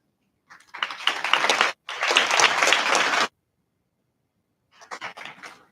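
Applause for the National Youth Development Agency at a scholarship fund event, heard as two close bursts of clapping, a silent gap, then a fainter, sparser spell of claps.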